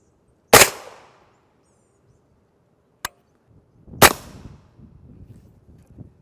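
Rifle shots from a 12-inch PA-10 build with a Faxon 1:3 twist barrel fired at armor plate outdoors, two loud sharp cracks a few seconds apart with a fainter snap between them, followed by low rumbling and handling noise.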